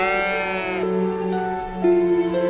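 A sheep bleats close by, two or three wavering, drawn-out calls in quick succession, clear and alone.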